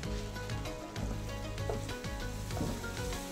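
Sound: stirring pasta sauce with oregano in a sizzling pan

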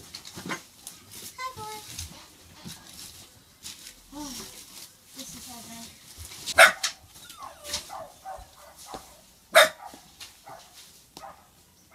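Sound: dogs barking

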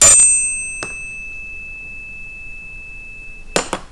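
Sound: two struck bells beating, getting louder and quieter

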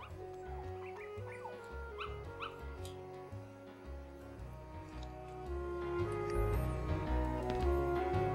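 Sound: Dalmatian puppy sounds in Kingdom Hearts video game

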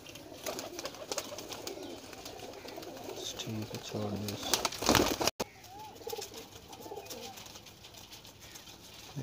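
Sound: pigeons cooing in a loft

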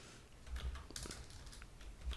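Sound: typing PHP code on a computer keyboard

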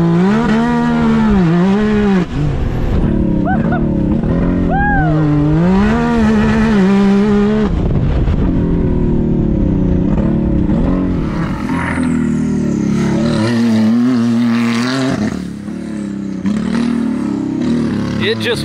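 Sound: Can-Am Maverick R side-by-side engine revving and launching

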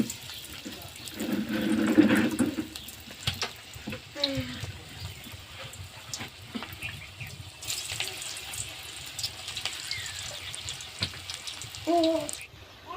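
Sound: cabbage pakora balls deep-frying in oil

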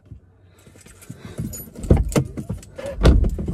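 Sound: keys jangling

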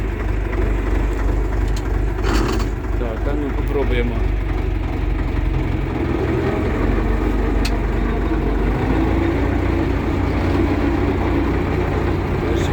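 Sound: UMZ 4x4 tractor engine running on test drive

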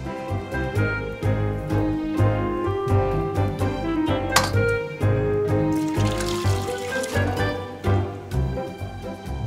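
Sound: broth poured through cheesecloth

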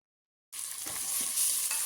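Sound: onions frying and being stirred in a pressure cooker

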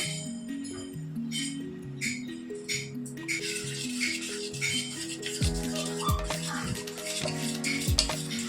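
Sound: mixing flour into soaked rice batter

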